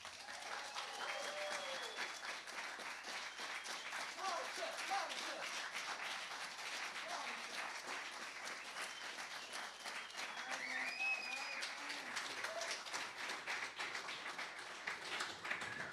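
A concert audience at the World Chess Hall of Fame applauds to welcome a band on stage, with sustained, dense clapping for about sixteen seconds and a few scattered cheers over it.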